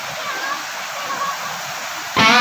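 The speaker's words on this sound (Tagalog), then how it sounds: "naririnig ko na yung kaluskos ng tubig at malapit-lapit na kami rito sa Tongtong Falls" Rushing water at Tungtong Falls in Lambakin, San Jose del Monte, Bulacan, a steady broadband wash heard from some distance, swelling sharply louder near the end as the falls come closer.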